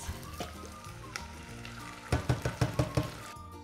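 Onions and tomato frying in a pan for a homemade pizza, a soft steady sizzle that turns into a run of sharp, close crackling pops near the end.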